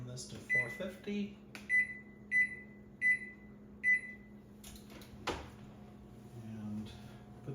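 An oven's control panel is set to preheat to 450, producing a series of about six short, evenly spaced electronic beeps, close and clear, followed by a click and a low hum, with a person speaking nearby.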